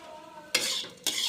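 Beetroot, potato and onion frying in a pan, stirred in two bursts of scraping and sizzle after a quiet start, close and moderately loud with no talking.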